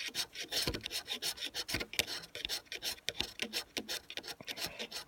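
Dry tinder being scraped into crumbs to start a fire in a damp forest, heard up close as a steady run of rapid, rasping scrapes with brief pauses between strokes.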